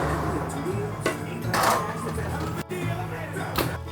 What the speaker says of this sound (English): I'm just going to whack these in the oven now